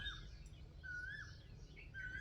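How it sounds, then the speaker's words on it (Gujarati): An Asian koel's whistled call rises twice against a quiet outdoor hush with a low rumble underneath, fairly distant and soft. "કોયલ બોલે સાંભળો"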